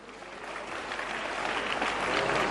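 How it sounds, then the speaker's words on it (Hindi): Steady applause from a seated audience at a Delhi vegetarian awareness day event honoring a doctor, a broad wash of clapping that builds slightly and carries on without voices. "जोरदार तालियां।"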